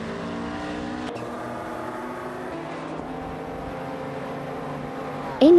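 Engines of race cars in a video game, including a Mercedes-Benz SL 500 and a Subaru Impreza 22B STI, hold a loud, continuous tonal drone, with a sharp, squealing tone cutting in right at the end.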